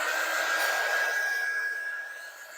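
A hair dryer blowing over a wet painting, a steady close airy whoosh with a thin whine that fades slightly toward the end.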